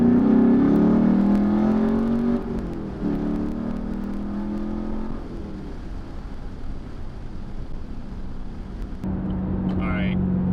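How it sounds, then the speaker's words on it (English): A 6th-generation Chevrolet Camaro with an MBRP axle-back exhaust pulls lightly in second gear, its engine drone rising and then easing back, loud and close, with someone talking over parts of it. "We're in 2nd gear and we'll do a slight pull."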